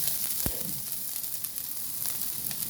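Garlic sautéing in a pan for a simple chayote dish, a steady close sizzle with a brief sharp knock near the start, no voices over the frying.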